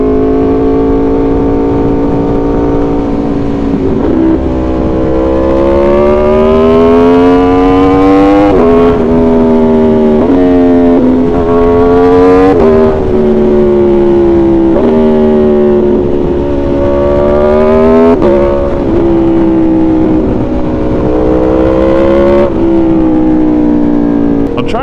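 Aprilia Tuono V4 motorcycle engine revving hard while riding, loud and close, its pitch climbing through gears and dropping at each shift in a repeated rise-and-fall pattern throughout.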